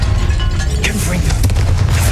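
Booming fire-spell blasts from Hogwarts Legacy on PS5, loud and close, with a couple of bursts and crackles over a heavy low rumble.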